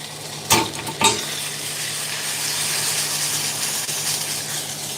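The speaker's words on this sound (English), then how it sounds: "I'm melting that butter" Butter melts in a hot pan, opening with two sharp clacks and then settling into a soft, even sizzle that runs steadily to the end.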